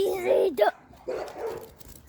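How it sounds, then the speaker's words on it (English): A dog barks and yips a few times nearby in a backyard setting, short sharp calls with a pause between, while a voice and other talk mix in. "there's a dog. She wants to go bark."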